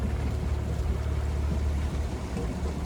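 A sailboat running under its engine at about 6 knots on open water, the steady low motor drone and hull-water rush continuing evenly and close throughout, with wind noise over it.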